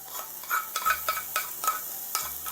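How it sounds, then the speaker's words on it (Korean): Sliced onions stir-fried in about a spoonful of cooking oil over a gas flame, a steady close sizzle broken by repeated scraping stirs of a utensil against the pan, with no talking. "식용유 1스푼 정도 두르고요, 아까 썰어 놓은 양파를 투하합니다."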